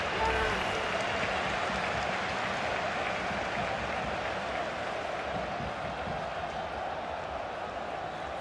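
Crowd applause in a FIFA video game simulation of a Liga MX match between Querétaro and Cruz Azul, a dense, steady wash of clapping and stadium noise throughout, with little variation in level.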